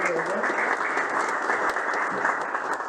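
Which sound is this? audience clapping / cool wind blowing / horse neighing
audience clapping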